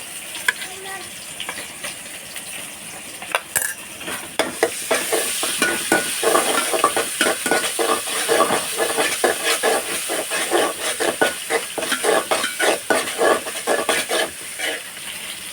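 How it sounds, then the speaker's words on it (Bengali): Cumin paste goes into a pan of browning fried onions for a mixed vegetable dish, setting off a rising hiss and sizzle, with stirring scrapes and clicks of a utensil repeating over the steady frying noise. "এখন এখানে আমি জিরা বাটাটা দিয়ে দিচ্ছি"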